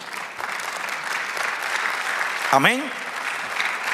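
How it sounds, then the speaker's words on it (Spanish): A church congregation claps steadily throughout, a continuous dense applause heard at moderate distance, while a single voice briefly speaks over it midway. "Dame un aplauso al Señor"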